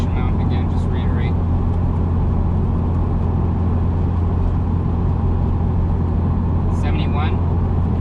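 Steady low road and engine drone inside the cabin of a 2017 Subaru WRX Limited cruising at 60 mph, constant and loud with no talking, broken only by a couple of faint high chirps.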